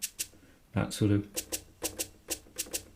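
A voice speaks briefly, then makes crisp, breathy 'ch' bursts in a quick, steady rhythm, mimicking a shaker for a recreation of Prince's Sign of the Times.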